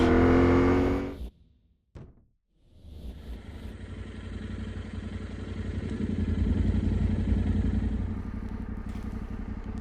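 A Yamaha Ténéré adventure motorcycle rides through misty Croatian countryside hills, its engine loud and close at first, briefly dropping away, then building into a steady droning run with wind rumble.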